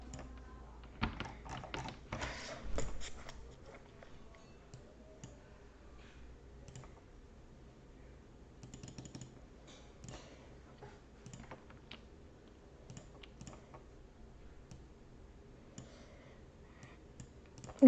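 A computer mouse clicks while someone draws shapes in Scratch, the close, sharp clicks arriving in scattered bursts, thickest near the start, over a quiet background.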